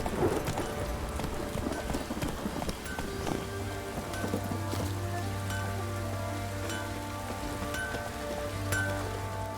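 Geralt's horse Roach in The Witcher 3 walks with clear, rhythmic hoof clip-clops, close and steady, over soft rain-like ambience, slowing toward a halt with a low hum underneath.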